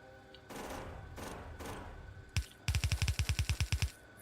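Gunfire in Factorio shooting trees: a single shot, then a rapid burst of about a dozen evenly spaced, loud shots, preceded by broadband crackling and rustling bursts.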